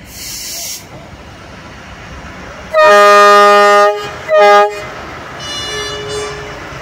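Electric multiple-unit high-speed train arriving at the Tegalluar depot gives two loud horn blasts, a long tonal honk followed by a shorter one, standing out over faint background hiss and ambient noise.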